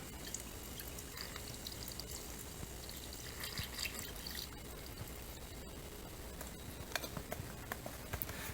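Clear watery fluid poured from a bottle into a Chevy Cruze diesel, a faint, steady trickle with small drips and patters, quiet and close with no talk.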